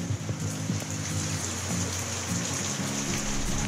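Rain pours down outdoors in a Philippine jungle setting, a dense close hiss of drops on surfaces with a low rumble underneath, continuous and with no talk.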